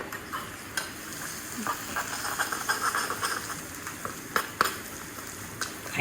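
Chicken curry being stirred in a frying pan after kasuri methi is added, a steady soft sizzle under scraping spoon strokes and a few sharper clicks against the pan, close and fairly quiet with no talking.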